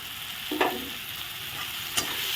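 A tomato, onion and potato masala with meat masala, chili powder, green chilies and ginger is stirred in a frying pan: a constant close sizzle broken by two distinct spatula scrapes, with no voices.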